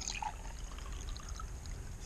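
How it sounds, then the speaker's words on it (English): Fresh water pours steadily into a 100 ml measuring flask, a soft continuous trickle with a faint splash at the start, quiet and without talk. "Top this flask off to the 100 milliliter mark with fresh water."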